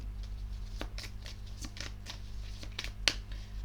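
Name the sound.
tarot card being handled and covered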